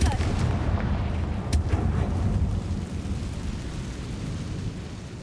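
A Confringo fire spell blast in Hogwarts Legacy, a deep booming explosion with a heavy low rumble that swells early, carries a sharp crack, then slowly fades under a spoken voice.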